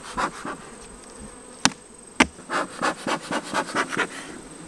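Honey bees buzz in an open hive during a summer inspection, a dense, close, continuous drone broken by two sharp knocks from hive equipment partway through.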